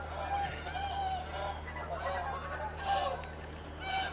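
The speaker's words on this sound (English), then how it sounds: "Watch snow geese." Snow geese honking in The Hunter: Call of the Wild, a flock's calls rising in several bursts over a steady low hum of game ambience, moderately loud and fairly close, with no talking.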